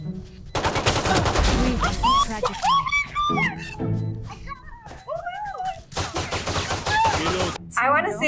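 Video game gunfire comes in rapid bursts of shots, loud and close, repeating several times between lively talk and excited voices from the players.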